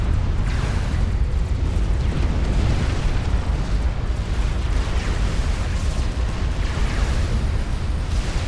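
Artillery explosions from a Supreme Commander Forged Alliance battle rumble as a dense, continuous wall of loud low booms and bursts, with no talk over them.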